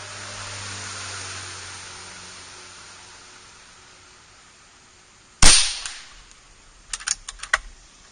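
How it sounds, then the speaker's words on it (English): An Air Venturi Avenger .25 caliber air rifle firing a 26-grain Predator Polymag pellet: one sharp, loud crack after a stretch of faint hiss, followed by a few light clicks and taps. "first shot, Predator Polymags, 26 grain, I have a 25 caliber Venturi Avenger"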